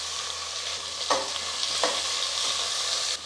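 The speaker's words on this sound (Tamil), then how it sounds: "இதெல்லாம் வந்து நல்லா வதங்கட்டும்" Sliced onions, cashews and mint sauté in a pan for Tamil coconut milk rice, giving a continuous close sizzle with a few soft stirring scrapes and no voices.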